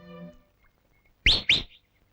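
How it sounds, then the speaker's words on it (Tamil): Two sharp, rising whistles in quick succession ring out close by, a person whistling to get someone's attention, after a brief faint musical tone fades at the start. "காலங்காத்தால விசில் அடிச்சுட்டு"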